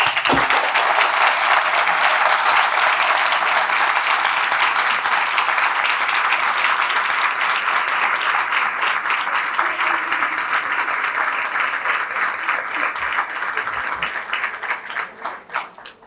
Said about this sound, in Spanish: Muy merecidas las palmas, Ricardo.